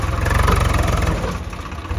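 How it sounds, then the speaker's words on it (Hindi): A fully loaded tractor engine running close by with a steady low throb and a slight swell in effort, working to pull a stuck truck on a muddy spot; no talk. "अब ट्रैक्टर पूरा लोड है, ट्रैक्टर जोर अच्छे से मारेगा"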